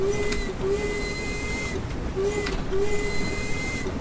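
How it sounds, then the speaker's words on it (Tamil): Steam locomotive whistle in the Train Sim World game, a steady tonal blast sounding twice in a row against a constant background rumble of the engine, with no talk over it. "ட்ரெயின்னாலே இந்த விசில் தான்"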